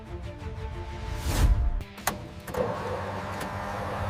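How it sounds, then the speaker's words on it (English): A restored classic fire truck, pulled from a jungle as an abandoned wreck, cranks and rumbles to life, then settles into a steady, fairly loud close idle with no one talking. "After months of work, this fire truck roars back to life."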